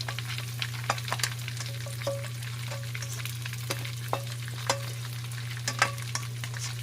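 Cooked bagoong alamang shrimp paste is stirred into crispy pork frying in a pan, with repeated scraping spatula strokes over a steady sizzle and a constant low hum.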